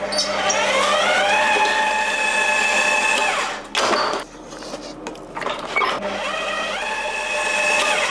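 An electric mixer beats cream cheese filling for a cheesecake on medium speed, loud and close, whining as it spins up, dipping briefly in the middle, then running steadily again.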